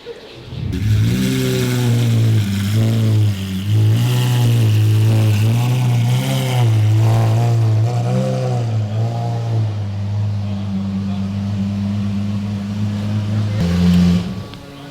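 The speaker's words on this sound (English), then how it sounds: "This car is extremely loud. Very loud. You can't even hear yourself." A loud widebody Lamborghini Urus engine revving up and down repeatedly, then settling into a steady rumbling idle with a deep, throaty tone.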